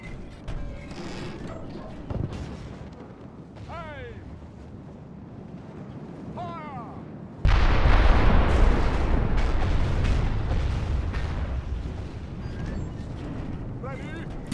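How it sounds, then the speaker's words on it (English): Artillery battery firing in an Italian Wars battle video game, a sudden loud boom at mid-clip giving way to sustained rumbling cannon fire and battle noise, with someone talking over the opening stretch. "So here's the other artillery battery."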